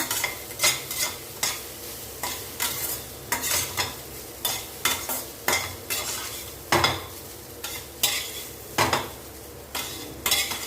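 A spoon scrapes and clatters against a pot as pear rice is stirred, in a long run of rhythmic strokes under a faint sizzle, with no talking.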